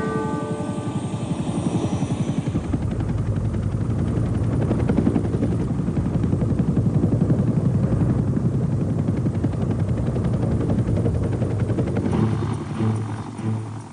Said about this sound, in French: il n'y en a pas un seul qui ne se souvienne pas du bruit des pales du rotor